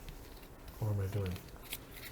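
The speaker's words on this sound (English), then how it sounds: "I have to shuffle." A deck of game cards is shuffled in one quick riffle burst lasting under a second, close and crisp, set among quiet room tone.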